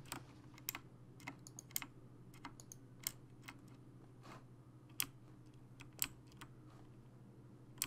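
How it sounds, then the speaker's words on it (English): Quiet, scattered clicks and taps from a computer keyboard and mouse, irregular in rhythm over a low steady hum. "I'm sure the clicking is loud"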